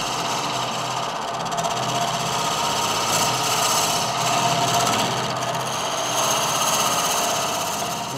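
A wood lathe spins a piggy bank blank while a round cutter works it, giving a steady, continuous whirring and scraping hiss with no talking.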